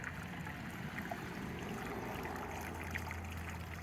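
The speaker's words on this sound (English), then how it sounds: "World's smallest funnel to pour a gallon of lacquer thinner." Lacquer thinner pours steadily from a gallon can through a very small funnel into a Toyota Previa catalytic converter, making a faint, continuous trickle against a quiet background.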